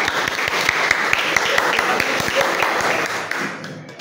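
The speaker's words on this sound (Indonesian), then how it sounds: "tepuk tangan dulu buat Mbak" A classroom of children applauds a student, a steady patter of many hands at close range that fades out toward the end.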